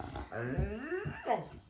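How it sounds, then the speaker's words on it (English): A dog growls and whimpers close by in a short run of low rumbling and whiny, pitch-bending cries, with no talking over it. "that was the dog, not me."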